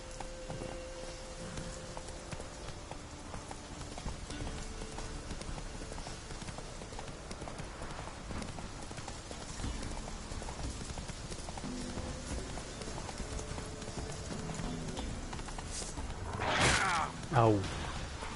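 Roach, the horse in The Witcher 3: Wild Hunt on the Skellige isles, keeps up faint, continuous hoof clip-clops under game ambience and music, with a brief louder swell near the end.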